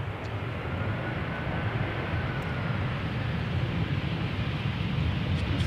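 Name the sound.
Airbus A320 arriving at Schiphol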